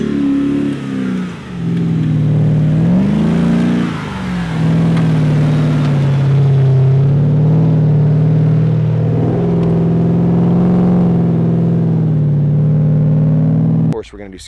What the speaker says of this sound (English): TIG welded pie cut exhaust with a Borla muffler on it